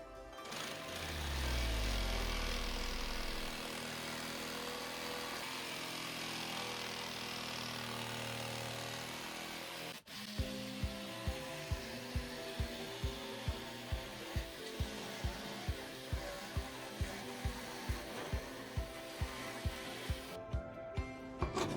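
Jigsaw cutting a curve in a board, a steady motorized whine for several seconds, then a brief break and a run of rapid, regular ticking strokes of the blade as the cut continues.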